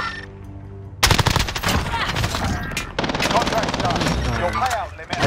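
Rapid automatic gunfire bursts out after a quiet second of game music in Call of Duty Modern Warfare Resurgence, loud and dense bursts with a brief lull, while players talk over it.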